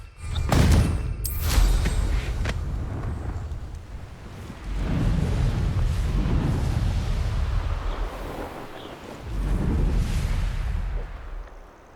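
Blasting spell explosions in the Hogwarts Legacy video game: a sharp crack followed by rolling, rumbling booms that swell and fade in several waves.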